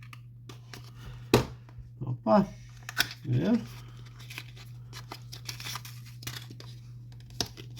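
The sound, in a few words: cutting open the sealed packaging of a product box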